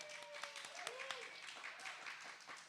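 Audience clapping for a guest on a chat show, a light scattered round of applause at moderate distance, with voices talking over it.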